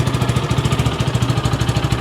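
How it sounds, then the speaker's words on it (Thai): A 2019 GPX Demon GR 150R motorcycle with its stock exhaust idles close by with a steady, throbbing low chug that repeats evenly throughout, no voices present. "เสียงเครื่องยนต์ ก็จะประมาณนี้นะครับ"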